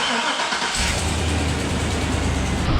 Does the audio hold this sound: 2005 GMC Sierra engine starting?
yes